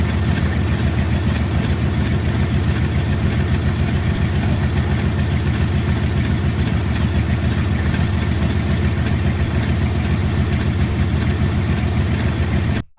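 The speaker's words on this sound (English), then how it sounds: "I need to wait until the engine warms up" A WW2 aircraft engine in ARMA 3 idles steadily while warming up, a loud, constant low drone with a fine rhythmic flutter that holds unchanged until cutting off at the end.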